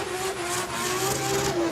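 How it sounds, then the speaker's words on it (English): Drift car at a Goodwood Festival of Speed driftkhana spinning its rear wheels while braking, with a loud, sustained engine roar and squealing, smoking tires close by. "he's just using that front brake to slow the car down and keep those rear wheels spinning away"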